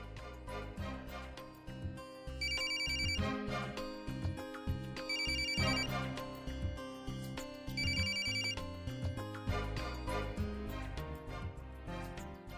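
A phone ringtone plays loudly and continuously, a bright repeating melodic tone sounding in regular bursts over a steady electronic beat, with no one talking.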